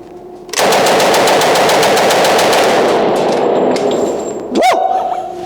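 A full-auto M3A1 submachine gun fires one long rapid burst at an outdoor range, loud and close with metallic ringing, followed by a few trailing clangs.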